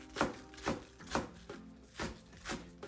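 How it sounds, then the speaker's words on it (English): Knife chopping spring onions on a cutting board, soft evenly spaced thuds about twice per second, close and fairly quiet with no talk. "I'm going to go ahead and cut up some spring onions"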